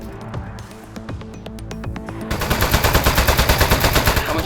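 Shooting in the Aperture Desk Job video game starts with a few scattered clicks and taps, then becomes a loud, steady rapid-fire stream of evenly spaced shots.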